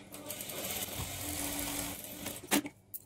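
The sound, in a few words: sewing machine stitching blouse fabric edge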